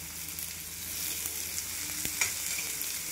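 Capsicum and tomatoes sizzle steadily in hot oil, a continuous close frying hiss with a few faint clinks from a utensil, no voices.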